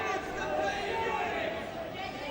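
Unhappy Dewsbury rugby supporters on a terrace below at a Dewsbury versus Toronto match: a diffuse murmur of crowd chatter and grumbling, steady and moderately distant, running under a commentator's voice.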